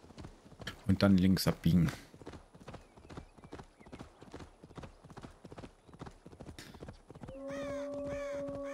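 Galloping horse hooves in Assassin's Creed Valhalla pound in a rapid, steady rhythm throughout, with a loud neigh and a brief voice in between, before a sustained tonal swell takes over at the end.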